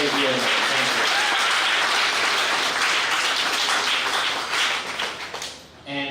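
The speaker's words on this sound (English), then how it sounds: "join me in a big round of applause for those two gentlemen" An audience at an NFL Men in Black honoree event breaks into sustained applause, a dense steady roar of clapping that fades out near the end.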